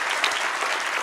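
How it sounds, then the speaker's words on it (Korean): A short, even burst of audience applause at a Christmas gathering with children, many hands clapping together in a dense patter with no pauses. "박수를 보냅시다."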